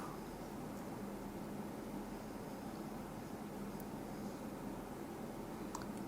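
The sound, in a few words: static from a homemade AM-FM radio receiver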